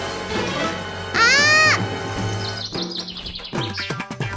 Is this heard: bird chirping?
yes